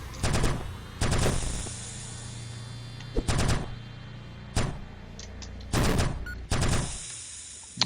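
Rapid automatic gunfire from a weapon in the alpha version of the video game Neurovoider, loud bursts firing in several sustained rounds separated by short pauses, with a steady low hum underneath.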